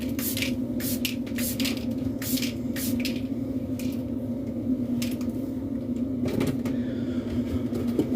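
Makeup setting spray from a spray can, a few soft hissing bursts over a constant low electrical hum, close and fairly quiet, irregular in rhythm.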